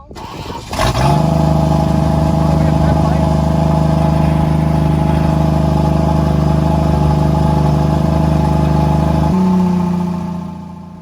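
A Plymouth Valiant engine running loudly in neutral, a steady, close, droning roar that holds for about ten seconds after a sudden start and shifts slightly in tone near the end before fading.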